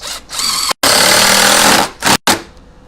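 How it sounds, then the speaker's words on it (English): A power drill drives a screw into a new window frame during installation, a loud close whine in several bursts separated by short pauses. "I'm going to go ahead and sit my first screw here."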